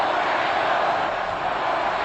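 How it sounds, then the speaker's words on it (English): A big crowd at a 1961 Grey Cup football game roars in a dense, continuous wash of voices at a distance, steady throughout, with no distinct chant rhythm standing out. "And listen to the crowd set up to chant now."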